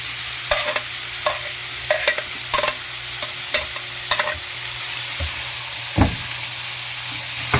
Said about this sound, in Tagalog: Gisa-gisa natin yun guys